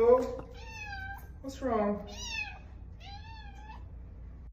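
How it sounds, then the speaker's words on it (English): Cats meowing several times in a row, drawn-out rising and falling cries close by, with a person briefly speaking between them. "Those cats are pretty cool, but can be annoying."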